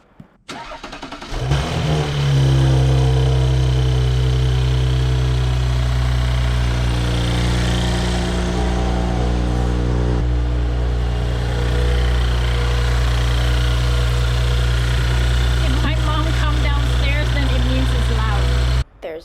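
An Audi S4 B9, fitted with an ECS downpipe and an Integrated Engineering stage 2 tune, cranks and fires up, then settles into a steady, loud, close idle that continues to the end.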